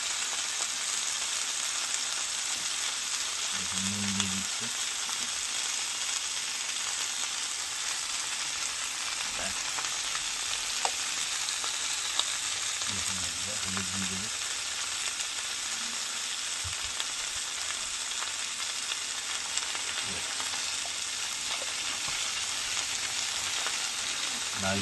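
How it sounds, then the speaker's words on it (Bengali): Red amaranth leaves fry in a pan with a constant bright, crackling sizzle held close and loud throughout, plus a couple of soft low knocks from stirring. "লাল শাক ভাজা হচ্ছে"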